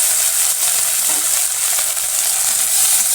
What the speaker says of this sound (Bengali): কাঁচা লঙ্কাটা ভালো করে ভেজে ধনে পাতা দিয়ে দিচ্ছি